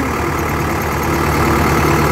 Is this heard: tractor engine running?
yes